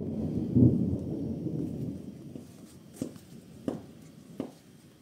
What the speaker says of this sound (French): Tonnerre, beaucoup.